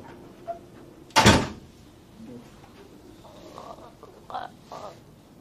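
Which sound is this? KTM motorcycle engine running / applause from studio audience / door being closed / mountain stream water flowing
door being closed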